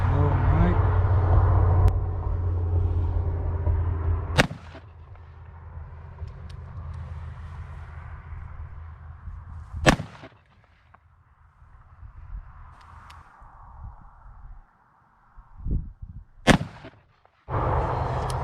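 Percussion revolvers, an Uberti Walker and an 1858 Remington loaded with paper cartridges, fire several loud, sharp shots outdoors, spaced seconds apart, with a steady rumbling engine-like drone underneath early on and quieter handling noises between shots.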